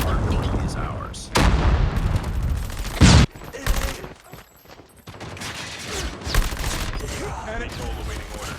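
A Predator missile strike in the video game Call of Duty Mobile, heavy rumbling gunfire and explosions rolling continuously, with a loud booming impact near the middle and talk mixed in throughout.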